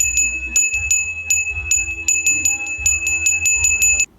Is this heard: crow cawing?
no